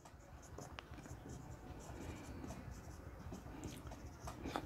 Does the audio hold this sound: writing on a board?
yes